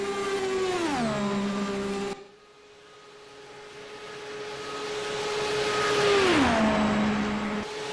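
An IndyCar race car hot lapping at Indianapolis screams past at high revs, its engine pitch dropping as it passes; after a brief lull a second loud pass sweeps by with the same falling drone.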